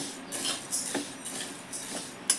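Wheat grains are stirred continuously in a pan over low gas flame while roasting for sattu flour, giving soft scraping and light clinking strokes at a steady pace, fairly close.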